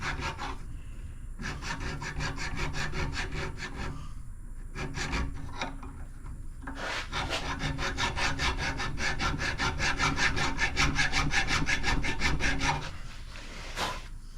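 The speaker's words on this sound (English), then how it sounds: "Just trying to sand away anything that looks like rust." Sandpaper rubbing rust off metal in long, rhythmic back-and-forth strokes, close and steady with brief pauses between runs, no talking.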